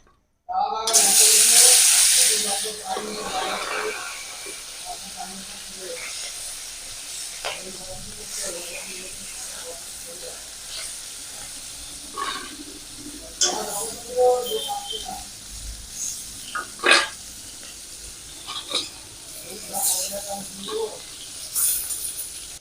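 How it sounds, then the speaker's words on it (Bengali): Koi fish rubbed with salt and turmeric, frying in mustard oil in a wok. A loud burst of spitting sizzle when the fish goes in settles into a quieter steady crackle with scattered pops and clatters. "নুন হলুদ মাখানো কই মাছ দিয়ে দেবো তেলে"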